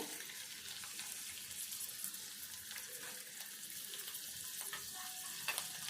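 Green chillies, onion and coriander frying in a little oil for idli, a soft, steady hiss and crackle throughout with light stirring.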